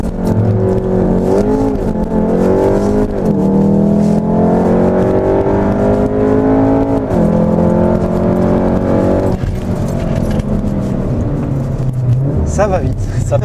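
A VW Golf 7 R revs and holds at the limiter under launch control, then surges forward accelerating hard through gear changes, the engine loud inside the cabin while people talk throughout.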